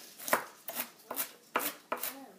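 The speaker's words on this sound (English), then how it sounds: "So I'm just kind of chopping that up" Knife chopping red cabbage on a cutting board, five crisp, evenly spaced chops close up, each a sharp crunchy strike with a short tail, no talking.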